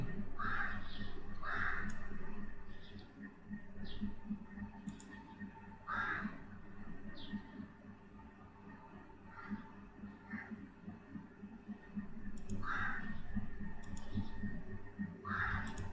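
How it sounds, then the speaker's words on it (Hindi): Computer mouse clicks sound while software is being downloaded on a PC, with sharp single and double clicks spaced irregularly over a steady low electronic hum. "लेकिन मैं इसे सिंपल डाउनलोड पे क्लिक करता हूँ"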